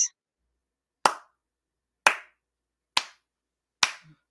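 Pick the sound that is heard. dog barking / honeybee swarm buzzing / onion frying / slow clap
slow clap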